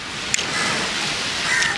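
A crow-like bird caws at a seaside beach over a steady surf wash, with a couple of short, fairly distant calls spaced apart and nobody speaking.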